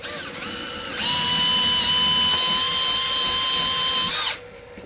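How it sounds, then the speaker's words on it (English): A power drill bores through a log slice meant for a clock. It spins up to a loud, steady high whine for about three seconds and then winds down to a stop. "just drill a hole through"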